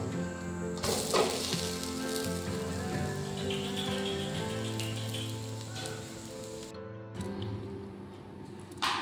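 Food fries in oil in a pan, giving a steady, dense sizzle close by that runs the whole time with slight shifts in intensity.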